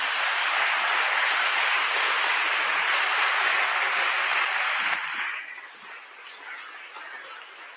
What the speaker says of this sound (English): please have a big applause for them